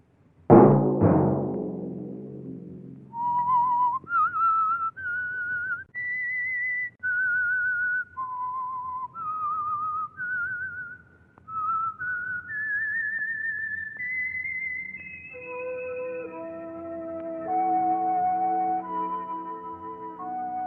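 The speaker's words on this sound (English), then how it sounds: "Let that whistle be your signal each Sunday for the Signal Oil program, The Whistler." Signature whistled theme of The Whistler radio program: a solo whistled melody of sustained, wavering notes climbing gradually in pitch, entering after an opening orchestral chord and later joined by soft accompaniment, clear and prominent throughout.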